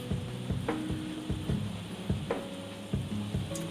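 Home-made blackcurrant jam bubbles in a pot at a low steady simmer, with soft plops and occasional knocks over a constant hiss, quiet and with no talking.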